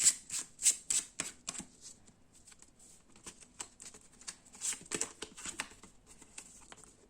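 Tarot cards shuffled and drawn during a reading, giving a run of quick, crisp riffling flicks and soft slaps, busy at the start then sparser taps, close and fairly quiet with no talking.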